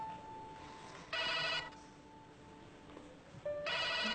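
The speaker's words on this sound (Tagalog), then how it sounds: "Jing! Yung telepono." A telephone rings indoors at a residence, two loud electronic ring bursts separated by a pause over a low hum, with no talking.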